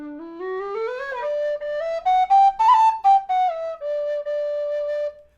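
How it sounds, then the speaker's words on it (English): A Goldfinch tin whistle plays a bright melodic run alone, starting low and sliding upward through a series of clear tongued notes, peaking briefly before settling on a steady held tone, fairly close and moderately loud. "I have the goldfinch whistle."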